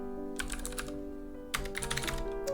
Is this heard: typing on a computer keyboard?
yes